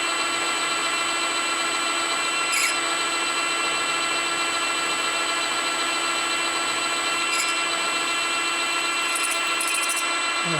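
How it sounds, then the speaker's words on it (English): A drill bores steadily into a MIG welder drive roller with a continuous high whine, even and close throughout, with a few brief squeals of the bit biting; no voices. "Doesn't like starting that drill bit for some reason."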